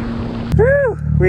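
A 200HP Can-Am X3 off-road vehicle driving across frozen Lake Erie, a loud steady engine drone under wind rush, with a voice speaking briefly over it.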